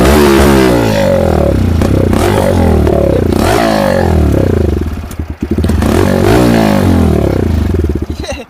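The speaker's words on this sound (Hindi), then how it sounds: "तो अब सुनाते हैं आपको भाई रेडर 125 सीसी का एग्जॉस्ट साउंड।" TVS Raider 125 cc motorcycle idling in neutral and being revved, a loud close exhaust rising and falling through repeated throttle blips with a brief dip midway.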